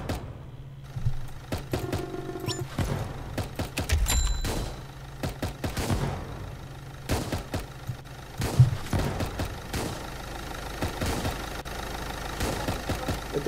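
Rapid bursts of gunfire from defensive towers in Roblox Tower Defense Simulator crackle in irregular volleys, layered over a low engine-like rumble from the game with no voices.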